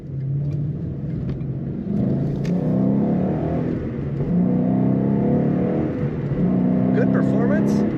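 A 2012 Ford Mustang GT coupe with a six-speed manual accelerates from inside the cabin, its engine note climbing steadily and dipping briefly at two gear changes before pulling on loud and continuous.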